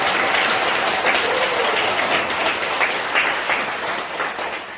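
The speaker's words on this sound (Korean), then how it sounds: "여러분들 뜨거운 박수로" Warm applause from the congregation for a choir at a Catholic mass for the restoration of democracy, held in a ground-floor chapel: steady, dense clapping throughout, close and fairly loud, slowly fading near the end.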